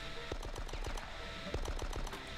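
Rapid bursts of automatic gunfire from the 2002 PC shooter Die Hard: Nakatomi Plaza crackle loudly and close, in a dense volley with a short pause before another burst.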